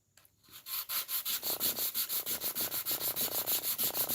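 Wood hand-sanded with sandpaper in quick, rhythmic back-and-forth strokes, a close, steady series of scratchy rasps, about five per second, with no voices.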